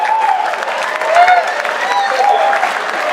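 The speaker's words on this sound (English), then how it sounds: "That definitely deserves an applause." Audience applause at a live debate on the historical Jesus, a steady wash of clapping with faint cheers and voices mixed in, moderately loud throughout.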